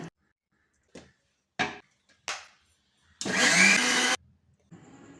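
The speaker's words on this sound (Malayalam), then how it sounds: "ഇനി കുറച്ചീശയായിട്ട് മിക്സിയിലിട്ട് അടിച്ചെടുക്കാം." A kitchen mixer grinder blends ripe mango into pulp in several short pulsed bursts with silent gaps, then one longer, louder run of about a second, heard close and alone.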